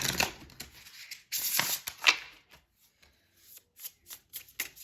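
Tarot cards are shuffled by hand up close in crisp, riffling bursts, then softer, intermittent flicks and slides of the deck.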